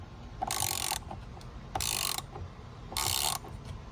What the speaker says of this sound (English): thread that bolt back in. And we're just gonna tighten it up.